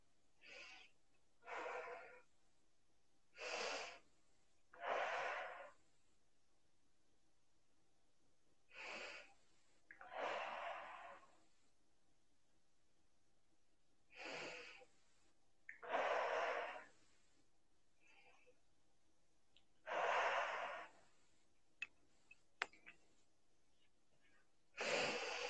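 A person breathes heavily during an emotional-block exercise in a psychology consultation, with about a dozen loud, separate rasping breaths and gasps spaced a few seconds apart and near silence between them.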